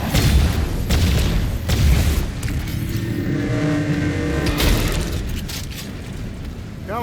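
Heavy low rumble of a tank in Doom The Dark Ages, with booming bursts and a steady dense roar throughout, loud and close with no talk.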